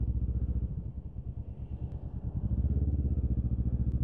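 Kawasaki ER6F motorcycle, a 2007 model with 47,000 miles, ridden as a commuter, its engine holding a steady low rumbling drone close to the mic with faint wind rush and a couple of small clicks.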